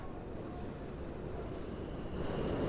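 Elevated M subway train pulling out of Hewes Street station in Brooklyn, a broad continuous rumble overhead heard from the street below, swelling slightly louder toward the end.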